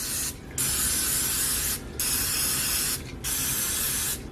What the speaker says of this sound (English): I have to spray the pan kind of heavily so the muffins don't stick to the pan